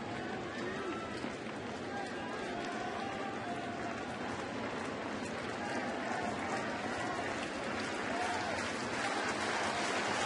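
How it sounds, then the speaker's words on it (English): Baseball fans in a ballpark standing and applauding during a Giants at Cardinals game, a steady wash of distant crowd clapping and cheering with faint commentary voices underneath. "And now they're just still standing and applauding."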